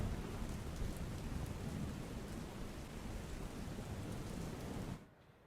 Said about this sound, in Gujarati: જે રીતે વરસાદ અવિરત વરસી રહ્યો છે